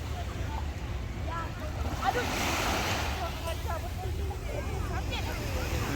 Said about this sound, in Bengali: সিঙ্গাপুরের একমাত্র বিচ এই ছোট একটা বিচ